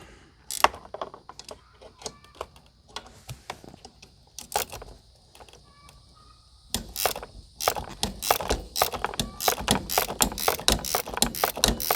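A ratchet wrench winds a bolt into a 1997 Ford Explorer seat: sparse clicks at first, then a faster, louder run of close ratcheting strokes.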